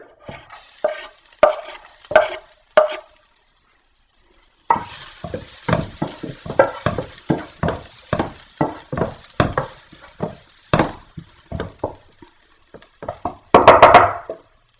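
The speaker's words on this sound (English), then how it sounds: "Now I'm gonna add my garlic." Garlic frying in a pan on a stove at medium heat for teriyaki salmon, with a series of close, rhythmic stirring scrapes and soft sizzles, a brief pause, then steady stirring strokes and a burst of louder sizzle at the end.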